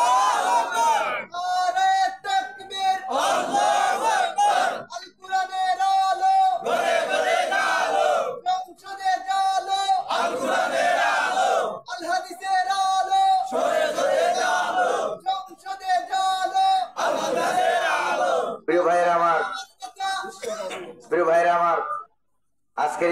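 Large crowd at a Bengali Islamic religious gathering (mahfil) chanting slogans in unison, loud repeated call-and-response bursts of voices with short pauses between chants.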